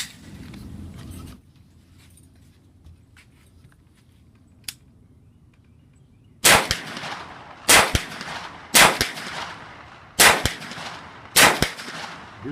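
A Sig MPX SBR 9mm carbine fires Black Hills ammunition: five loud, widely spaced shots, each with a sharp ring as the bullet strikes the target. Faint mechanical clicks come first, then near silence before the shots.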